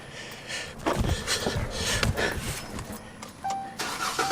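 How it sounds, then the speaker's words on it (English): A Dodge Charger's engine cranks and starts, with rough mechanical churning settling into a running idle, close by, with a faint jingle of keys. "So I'm actually gonna cut the car on if I can find my key"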